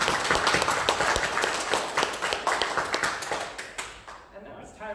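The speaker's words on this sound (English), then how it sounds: "Please join us in a round of applause for our first-time guest and all our returning friends watching" A round of applause for guests at a church service: many hands clap steadily and fairly close, the clapping thinning out and fading toward the end.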